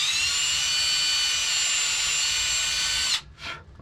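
A power drill pre-drills into the plastic of a skeleton bird toy, whining loudly and steadily at a high pitch for about three seconds, then cutting off abruptly with a brief low rustle after.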